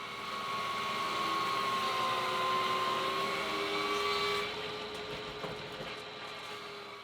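A thickness planer mills sawn wooden boat frames down to final thickness, producing a loud, steady mechanical whine and hum that eases off partway through and continues at a lower level.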